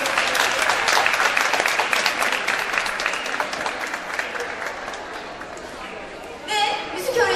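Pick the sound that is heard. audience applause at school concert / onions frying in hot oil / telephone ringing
audience applause at school concert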